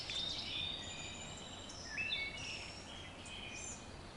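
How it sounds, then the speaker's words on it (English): A wood thrush sings fluting phrases along a creek lined with tall trees, with other birds and insects calling faintly in the background; the song is moderately distant and clear over steady outdoor hiss. "There's the wood thrush."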